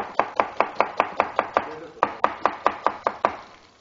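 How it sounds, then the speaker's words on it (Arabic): A knife chops onions on a board in a quick, even run of about fifteen crisp thuds, close and clear, with one short pause partway through. "طبعا رح نفرم البصل جوانح"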